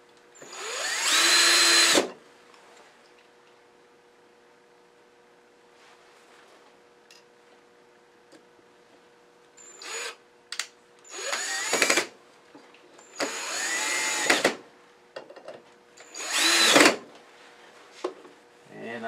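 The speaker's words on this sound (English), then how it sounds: "So I'm going to use these small little screws to mount this thing with." A power drill drives small screws to mount a reinforcing strap in a woodworking shop: a loud opening burst, a pause, then several short whirring runs in quick succession, close and alone.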